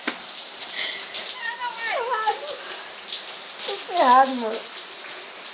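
Steady rain falls outdoors, a soft continuous hiss that runs through the whole moment while someone talks over it in Portuguese.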